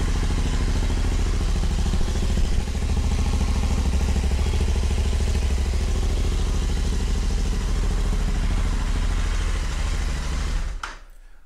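Motorcycle fitted with AEW slip-on mufflers gives a steady, loud, deep exhaust rumble that holds for about ten seconds before cutting off abruptly near the end.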